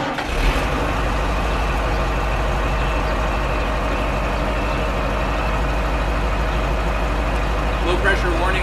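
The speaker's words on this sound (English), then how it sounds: "I'm going to start the engine" A dump truck's diesel engine rumbles loud and steady at idle after starting, a deep continuous drone with a low throb and a brief rise near the end, recorded close by.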